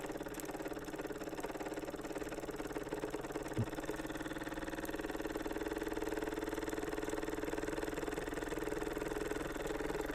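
A small Jensen or Mamod live steam stationary engine runs fast with a steady, continuous mechanical whir and rapid chuffing, faint and unbroken, with a single brief knock partway through.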